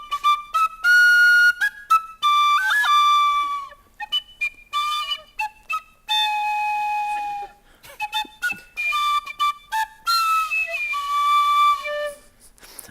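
A person whistles a wandering, expressive tune in clear, pure tones, with many short phrases and sliding pitches broken by brief pauses, close and fairly loud.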